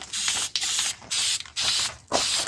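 Flex Seal sprayed from an aerosol can onto the edges of an Explorer 200, in four close hissing bursts separated by short pauses, with no talking.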